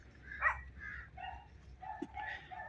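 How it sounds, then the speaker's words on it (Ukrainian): Neighbours' loose dogs, one a shepherd, bark and yip at a distance outdoors, several short barks in quick succession over a quiet background. "Сусіди попускали собак, вони всі бігають, вівчарка і така"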